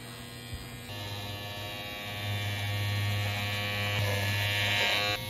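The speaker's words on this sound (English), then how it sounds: "We're just going to take this electric trimmer and clean up the top." Electric trimmer buzzing steadily as it trims the top of a tufted rug, a close continuous motorized hum that grows slightly louder and rougher partway through as it bites into the pile.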